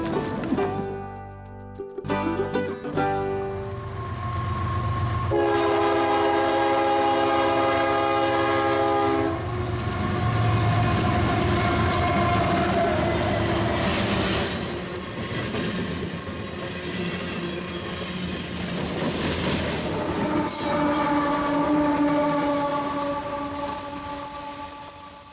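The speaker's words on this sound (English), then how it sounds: "we'd really have to hustle to catch our train at Alexandra Bridge Provincial Park" A train on the CN rail route runs past Alexandra Bridge Provincial Park in the Fraser River canyon, loud and close, with a sustained horn blast, steady rumble of wheels and cars, and squealing rail noise.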